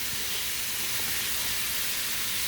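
Raw beef for beef stroganoff dropped into a hot pan gives a steady, soft, even sizzle that hisses faintly without a break.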